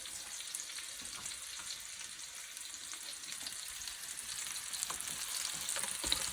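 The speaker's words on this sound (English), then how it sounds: "Now that my apples are starting to brown, I'm going to add my red onion in here." Apples browning in a skillet with red onion just added, giving a steady, soft frying sizzle that grows slightly louder toward the end, with no talking.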